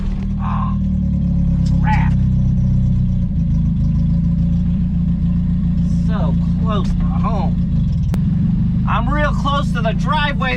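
A 1985 Ford Ranger with a broken throttle cable idling along, its steady low engine drone filling the cab while someone talks over it.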